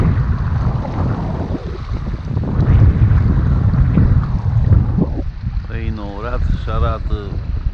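Wind blows on the bank of the Prut river at Sadoveni, a steady, loud, rumbling buffet against the microphone with a faint lapping background, and someone talks over it near the end.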